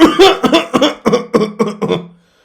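A voice imitates a cough: a quick series of about seven harsh, rhythmic coughing bursts, close and loud, fading into silence.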